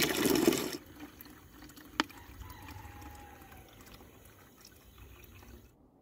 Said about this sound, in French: je vais remplir la bouteille